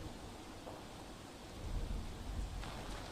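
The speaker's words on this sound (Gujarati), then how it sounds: "જ્યાં જે રીતે ધોધમાર વરસાદ વરસી રહ્યો છે" Steady broadband rain hiss with a low rumble swelling midway, like a heavy downpour with distant thunder, fairly loud and continuous, on a city street in Surat, India.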